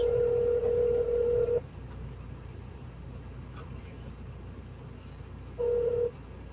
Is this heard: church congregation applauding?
no